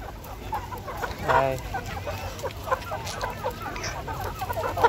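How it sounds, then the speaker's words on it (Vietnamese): Chickens cluck steadily at a crowded farm pen of crossbred Western-region roosters, a close, busy chorus of overlapping calls with someone speaking briefly over it. "Gà rất nhiều nha mọi người ơi, hôm nay rất là nhiều."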